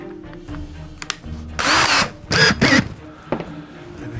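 A power drill seating a brass tube into a glued wooden pen blank, with a few short taps followed by two or three loud, close whirring bursts of a second or so each, then a brief final buzz.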